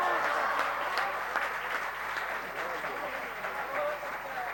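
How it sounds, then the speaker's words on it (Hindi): Audience applause at a Hindi kavi sammelan poetry gathering in Ghaziabad, a steady, moderately distant wash of clapping that holds evenly for several seconds. "मगर जिन लोगों ने नहीं बजाई मेरी कविता पर ताली, अमित शाह जी से कह के उनके घर ईडी भेज देंगे"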